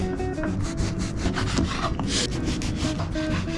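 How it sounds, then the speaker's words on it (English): A knife saws through a loaf of bread into half-inch slices, close rhythmic rasping strokes repeating steadily with no talking. "we're gonna cut the bread into 1/2 inch slices"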